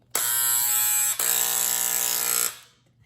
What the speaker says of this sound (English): I found these electric scissors I have had for years.